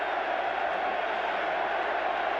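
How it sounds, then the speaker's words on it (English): A packed football stadium crowd at a 1985 Monday Night Football game between the Chicago Bears and Green Bay Packers roars and chants together, a dense, distant, sustained wash of many voices. "The crowd is chanting, "We want Perry.""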